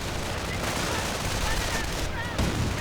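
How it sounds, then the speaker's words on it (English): Rapid bursts of .50 caliber machine gun fire crackle continuously in a Company of Heroes battle, dense and loud, with game effects layered over the shooting. "More 50 caliber rounds unleashed."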